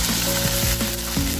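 Bunches of greens hit a hot frying pan over onions and sizzle loudly, with a dense crackling hiss and a few scraping stirs, close up and without talking.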